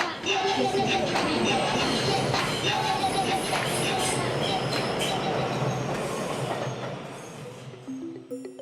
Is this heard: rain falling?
no